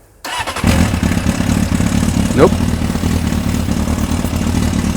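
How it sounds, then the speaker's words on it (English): A 1991 Honda CBR 600F motorcycle with an aftermarket Remus exhaust cranks and catches, then settles into a steady, throbbing idle with a slight rattle; close and loud, with one brief spoken word near the start. "It's got a nice aftermarket Remus exhaust and it sounds amazing."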